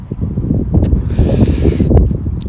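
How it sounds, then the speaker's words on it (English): Strong, cold wind buffets the microphone outdoors in a field where someone is metal detecting, a steady roaring rumble with gusty surges throughout and no speech. "It's very cold and windy today."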